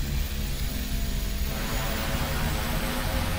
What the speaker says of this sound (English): I used reversers because I didn't want to go too far, but that made the nose wheel pop down